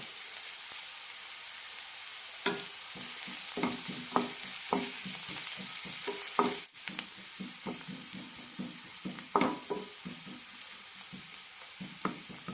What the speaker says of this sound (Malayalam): സവാള നല്ല ട്രാൻസ്പാരൻ്റ് ആക്കണം, അതുവരെ വഴറ്റാം.